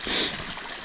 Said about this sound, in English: First bit of running water, nice running water in a few days.